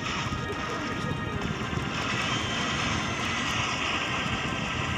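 A steady jet engine roar drones overhead, broad and continuous, holding at a moderate level for the whole stretch.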